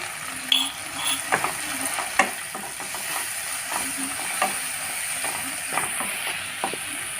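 Cumin seeds dropped into hot oil crackle and sizzle steadily in a pan for a coconut and taro dish, with sharp spattering pops and light scraping clicks scattered over the hiss; no voices are heard.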